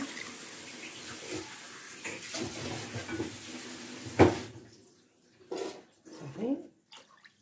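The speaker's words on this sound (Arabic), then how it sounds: "وغادي ندير جوج كيسان ديال الماء" Water is poured into a pot while making basbousa, for a syrup of water, sugar and lemon. Splashing and trickling come in bursts between kitchen clatter, and a voice talks faintly around it.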